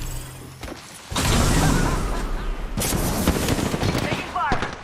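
Gunfire in an online shooter video game, loud sustained bursts of shots and booms filling most of the stretch, with a brief lull near the start and a short whoosh late on.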